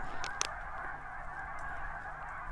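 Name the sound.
geese honking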